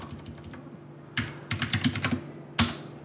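Typing on a computer keyboard, with quick, close clusters of clicky keystrokes in short bursts and pauses between them, and no voice.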